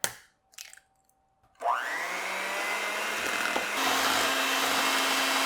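Electric mixer whirs up through keto cheesecake filling after an egg is added, a steady high motor whine with a pitch shift partway through, preceded by a few clinks.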